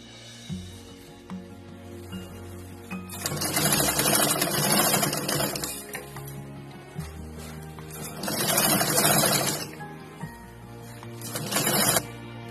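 A sewing machine stitches a zipper strip sandwiched between fabric and bag lining for a small designer party bag, running in two long loud bursts and a short final one, with quieter pauses between.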